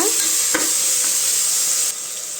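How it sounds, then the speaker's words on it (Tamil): Chopped tomatoes with a little salt sauté in hot oil for a South Indian vegetable rice, giving a loud, close, continuous sizzle with a single spoon knock near the start. "தக்காளி நல்லா வெந்து வரும் தக்காளி நல்லா வதங்கணுங்க"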